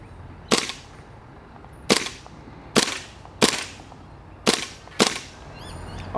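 Gel blaster firing six sharp snappy shots at irregular intervals about a second apart, loud and close, each crack decaying quickly into a faint background hum.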